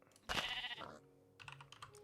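A Minecraft sheep gives one short, loud bleat as a dispenser shears it, followed by a run of faint, quick clicking taps.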